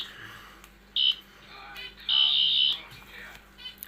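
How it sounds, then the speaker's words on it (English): A limited edition 14th sonic screwdriver toy gives a few bright electronic beeps, two of them long, heard close and clear between quieter clicks and handling noise. "It'll beep 3 times, and then you get the red setting."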